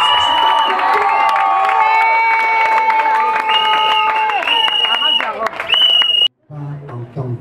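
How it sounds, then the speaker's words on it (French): Guests at a customary wedding ceremony for Michelle and Romuald raise loud, sustained high-pitched shouts and cheers with some clapping mixed in. The crowd noise stays close and dominant, then drops out suddenly near the end. "des cris, des applaudissements, des encouragements pour manifester quelle est son oui-là"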